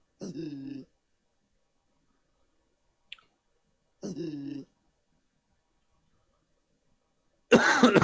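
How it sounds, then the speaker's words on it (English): A person coughs in two separate bursts a few seconds apart, close and fairly loud, with a tiny click between and a rougher throat noise at the end; the cougher has had a persistent cough for two weeks. "I've had this persistent cough for like 2 weeks now"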